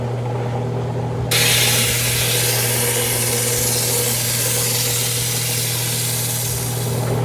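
An El Sueco agate is ground flat on a lapidary grinder: a steady motor hum, then the stone is pressed onto the wheel, bringing a loud, continuous abrasive grinding hiss that holds to the end.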